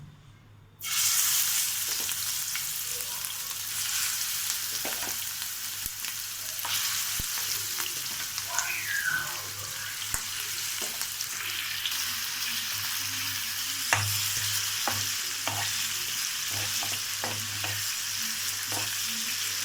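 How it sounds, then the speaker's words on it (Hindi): Chicken liver (kaleji) sizzles steadily in a hot pan, with a constant frying hiss and occasional stirring scrapes and clicks, heard alone and close. "इसको हम जो है अच्छी तरीके से फ्राई करेंगे"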